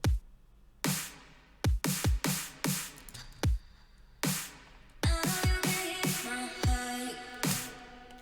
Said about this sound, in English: We have this drum fill.